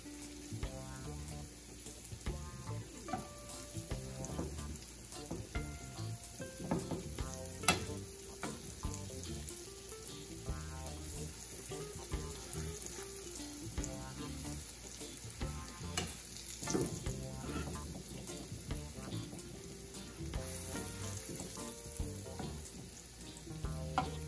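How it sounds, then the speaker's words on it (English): Eddoe taro balls sizzle and crackle steadily in oil in a frying pan, a dense bubbling fry with occasional louder pops and scraping as the balls are rolled around, continuing throughout. "You want to make sure you give enough time for the Eddoe balls to adequately fry"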